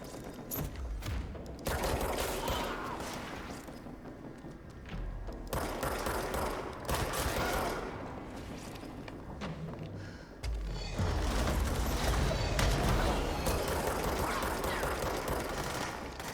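Enemy gunfire in the video game Control, sustained bursts of automatic fire and heavy thuds with dense action noise, loud and continuous, without talk.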